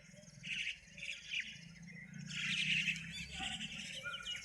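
Sparrows and pigeons feed on scattered rice grains, giving a steady run of small chirps and tweets at moderate distance, with a low rumble beneath and a brief human call.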